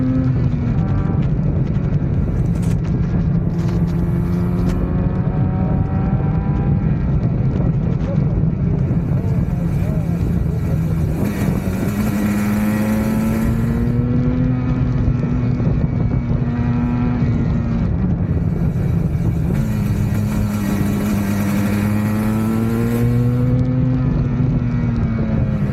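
A Yamaha RD400 two-stroke motorcycle ridden hard: a loud, raspy engine note that rises and falls as it revs up and shifts, with constant wind buffeting throughout.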